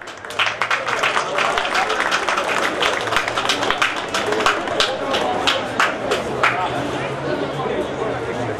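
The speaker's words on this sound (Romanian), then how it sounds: "Aplauze!" Crowd applause for the Brâulețul folk dance ensemble from Saelele, Teleorman, at an outdoor folk costume parade, sustained clapping of many hands under steady crowd chatter and babble.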